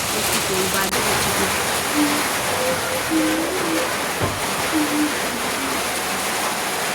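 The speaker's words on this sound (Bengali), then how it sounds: "শুনতেই পাচ্ছ কত জোরে ঝড় বৃষ্টি হচ্ছে" Heavy storm rain pours down in a village during a prolonged thunderstorm, a dense, constant roar of water filling the whole stretch, with faint tonal sounds drifting through it.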